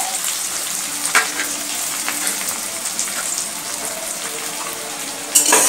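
Torn pieces of roti fry in hot ghee in a pan over medium heat, giving a close, continuous sizzle with scattered crackles and stirring clatters, and a sharper burst near the end.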